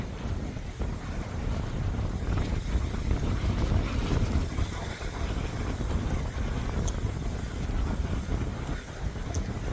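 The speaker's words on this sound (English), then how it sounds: "the wind's gusting over 20 here" Strong wind, gusting over 20, buffets the microphone in a steady roar with surging gusts, outdoors and close by the ocean, with no talking.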